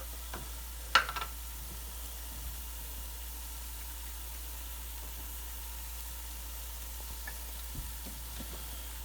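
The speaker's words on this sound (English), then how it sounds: "we're going to add just a little milk in, and you're just mixing around" Milk and flour being stirred in a hot pan for creamed spinach: a faint, steady sizzle and hiss with a couple of light utensil clicks early on and no talking.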